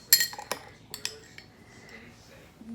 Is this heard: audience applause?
no